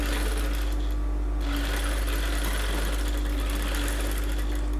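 A sewing machine runs steadily, stitching the shoulder seam of a bodice with a 1/2 inch seam allowance, a close, continuous rapid whirring chatter with a brief pause early on.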